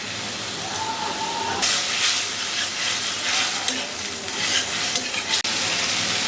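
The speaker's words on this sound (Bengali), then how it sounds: "একটু টমেটো দিয়ে মশলাটাকে কষিয়ে নেব।" Spice paste with tomato, coriander paste and turmeric frying in a pan, a loud steady sizzle and hiss with stirring, the sizzle jumping up sharply as ingredients hit the oil, with a brief click near the end.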